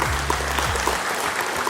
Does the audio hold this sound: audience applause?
yes